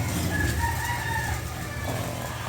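A rooster crows once, faint and somewhat distant, over a steady low background rumble, with no voices.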